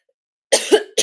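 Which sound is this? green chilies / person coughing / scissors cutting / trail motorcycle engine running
person coughing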